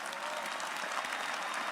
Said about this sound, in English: I'd like for you to give them a round of applause who've put this together today